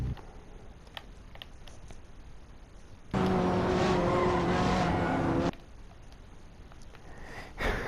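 In a Hot Wheels racing video game, a toy car's engine roars and its tyres squeal through a sliding drift, a loud steady burst of about two seconds over quieter background noise.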